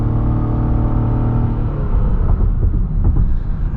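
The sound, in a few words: Lexus RX 450h F Sport accelerating, front tires spinning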